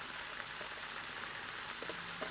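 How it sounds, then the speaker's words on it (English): Vegetables with grated carrot sauteing in a pan, a steady, dense hiss and crackle of sizzling that holds evenly throughout with no talking. "So I'll just keep sauteing this."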